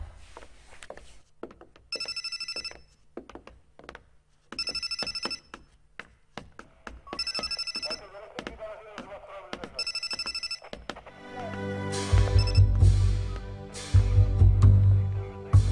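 An old telephone bell rings in repeated bursts in a quiet room during a Turkish TV drama scene, followed by loud music swelling in near the end.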